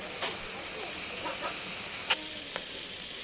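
Sliced bitter gourd (karela) frying in a pan, heard as a steady close hiss of sizzling oil with a few faint pops and clicks.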